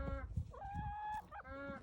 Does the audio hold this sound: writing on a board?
no